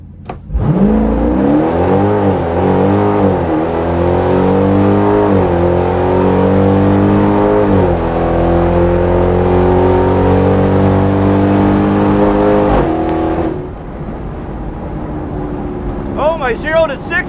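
A Dodge car launches off idle using a transbrake, its engine roaring loud and close as it accelerates through rising and falling revs for about twelve seconds, then drops away, with a person speaking near the end.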